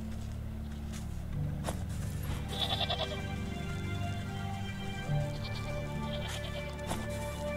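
Mountain goat in the game Wytchwood, a few short bleats over a constant low ambient hum, with faint footstep-like thuds.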